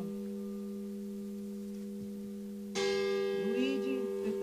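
A single church bell tolls, its strike blooming loudly over a lingering hum from an earlier toll, with no speech.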